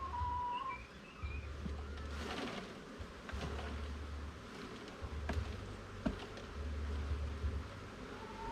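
Honey bees buzz around an open hive as frames are handled, a steady faint drone with a few close fly-bys and light knocks, and no talk.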